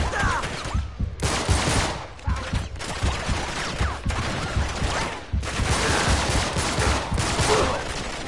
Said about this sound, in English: This pistol is kind of underpowered, but it has a good fire rate